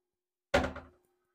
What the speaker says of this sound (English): The vanity has a door here, and this big one opens up as well.